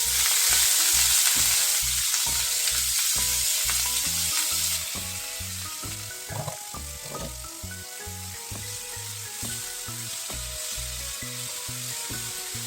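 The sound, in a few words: shrimp frying in hot oil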